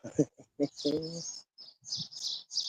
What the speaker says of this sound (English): You could hear the birds singing out there.